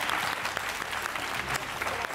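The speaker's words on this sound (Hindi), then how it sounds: "बच्चों के लिए जरा एक बार जोरदार ताली बजा दीजिए।" Audience applause for children at an event, a steady dense wash of clapping from a crowd filling the room, even and moderately loud from start to finish.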